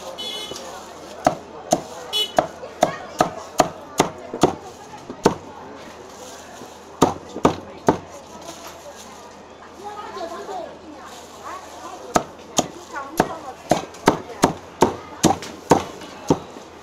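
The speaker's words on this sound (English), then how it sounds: "Hear that crispy skin getting cut." A cleaver chops through roast duck with crispy skin, including neck and head pieces, in sharp, loud, rapid bursts of cracking thwacks separated by pauses, with people talking in the background.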